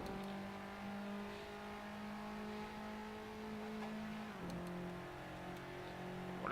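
Race car in the Assetto Corsa video game, engine droning steadily at high revs, then a brief dip and recovery as it shifts gear, continuous and fairly quiet with no talking.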